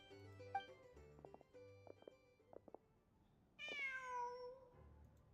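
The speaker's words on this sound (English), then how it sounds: "Just a cat." A cat meows in Genshin Impact, several rising and falling cries close up over soft game music, following quieter musical tones.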